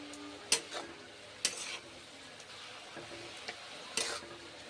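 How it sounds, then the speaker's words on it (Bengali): Cabbage cooks quietly in a pan while a spatula stirs it, giving a few sharp scraping strokes over a faint, soft sizzle. "খুন্তি করে কুক করছি বাঁধাকপিতে জল বেরিয়েছে"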